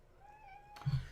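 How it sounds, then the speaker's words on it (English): A cat gives a short, faint, high meow that rises and falls, ending in a brief louder scuffle or thump, heard indoors. "What is it, little kitty cat?"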